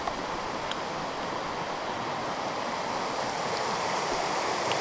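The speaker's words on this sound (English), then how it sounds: "nice roaring river." A roaring river beside a hiking trail in the Laurel Highlands, a constant broad rushing wash of water, loud and unbroken for the whole stretch.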